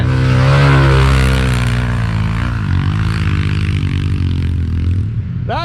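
Dirt bike engine held at full throttle, a loud, sustained high-revving buzz close by that sweeps slightly in pitch and holds nearly the whole time, with no talk over it.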